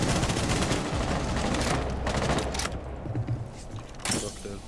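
Gunfire in the Rainbow Six video game: dense, continuous bursts of automatic shots with a few sharper cracks near the end, loud and close in a busy mix.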